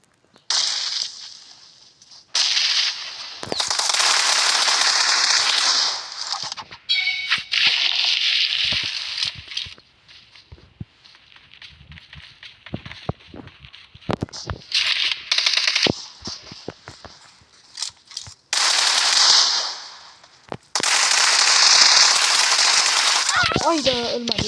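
Rapid gunfire bursts in the PUBG Mobile shooter, loud crackling volleys repeating in several sustained stretches with quieter gaps and a voice speaking between them.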